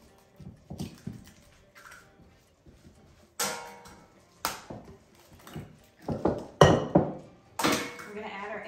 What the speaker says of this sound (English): then we're gonna break 2 eggs